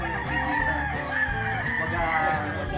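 A rooster crows several times, loud and near, among clucking chickens on a Tagaytay poultry farm, with faint background chatter.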